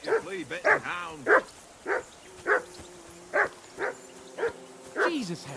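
Repeated dog barks from a hound in the video game Kingdom Come: Deliverance 2, sounding in a steady series of about ten loud, close yaps, with a voice speaking between some of them.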